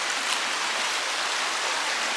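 A strongly flowing river near Luang Prabang, Laos, rushes in a steady, dense broadband roar, close and continuous with no pauses.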